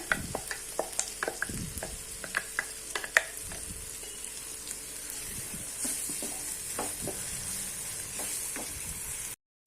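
White kurma with coconut paste sizzles and fries steadily in a pan while a utensil scrapes and stirs in repeated clinks and strokes, close and moderately loud.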